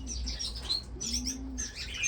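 Gouldian finches in an indoor bird room give repeated high, bright chirps and tweets in clusters, with a low steady hum underneath and a few soft flutters.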